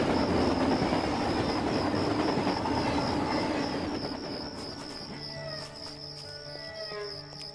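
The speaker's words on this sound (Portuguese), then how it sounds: "Eita, o trem, cara." A train rumbles past loudly in the video game American Fugitive, with a steady metallic whine above the roar, before fading into clattering wheels and lighter background sounds.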